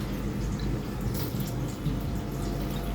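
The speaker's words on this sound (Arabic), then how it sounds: "انا بغسل ايدي بقشر الليمون دوت والبريل" Hands being washed under a running tap with lemon peel and dish soap in a home kitchen, a steady close rush of water splashing with no talk.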